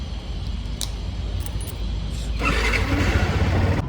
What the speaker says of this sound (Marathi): फटाफट आपली गाडी चालू करू